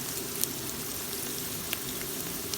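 Onions frying in a pan for beef papaitan make a soft, steady sizzle and hiss, with a few faint pops and clinks, continuous and fairly quiet, with no talking.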